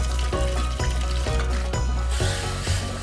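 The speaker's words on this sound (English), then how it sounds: "I love the sound of sizzle." Steady, crackling sizzle of food cooking in a hot pot, close and continuous, with faint rhythmic scraping or clinking.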